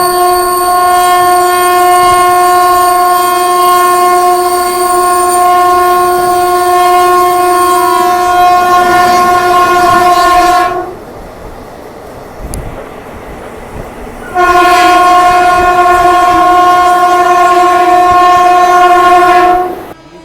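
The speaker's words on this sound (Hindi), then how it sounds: "सामने से आ रही है 12309 राजेंद्र नगर नई दिल्ली पटना से राजधानी एक्सप्रेस" An oncoming Rajdhani Express train passes with a loud, sustained two-tone horn blast heard from an Indian railway line near Kanpur Central, then a pause before the horn sounds again over steady rumbling wheels.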